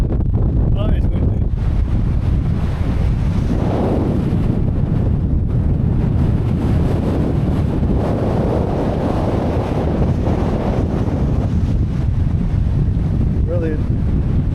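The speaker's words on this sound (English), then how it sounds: "Oh my god. That is windy." Strong wind buffets the microphone in a continuous loud rumble on Blackstone Edge, with faint distant sounds beneath.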